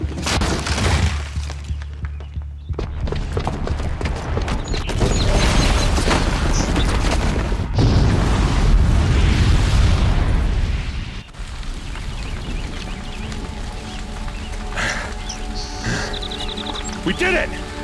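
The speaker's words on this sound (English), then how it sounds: "the booby trap on the bomb downstairs is gonna get set off" A booby-trapped bomb explodes in Horizon Zero Dawn on PS4, a loud, rumbling blast that roars for several seconds, then falls away into quieter game sounds with voices over the top.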